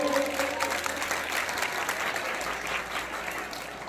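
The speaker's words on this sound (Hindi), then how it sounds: "तालियों से गुरु जी का स्वागत करें" Crowd applause at a ceremony honouring a guru and guests, a broad wash of clapping heard somewhat distant and moderately loud, holding steady throughout.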